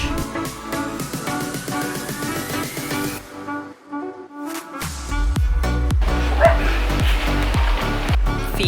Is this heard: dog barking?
yes